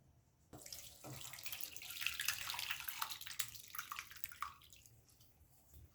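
Vinegar-curdled chhana is rinsed under cold running water, a steady tap stream splashing and pouring for several seconds, rising then easing off, with no talking.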